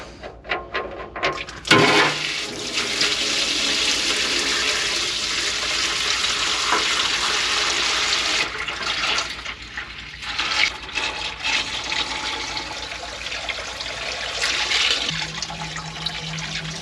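Oil pours through a homemade funnel into an expanded-metal drain pan beneath a tracked vehicle's bogey wheels, a steady rushing, gurgling flow that starts abruptly and runs continuously.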